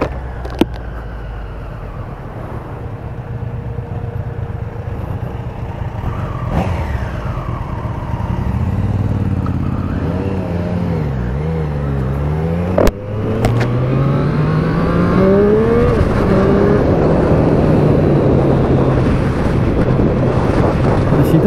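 A 2021 Triumph Street Triple RS motorcycle accelerates hard on a road test ride, its engine climbing through rising revs with gear changes, heavy wind rush over the microphone and a sharp knock partway through.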